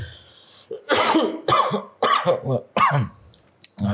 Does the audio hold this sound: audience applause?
no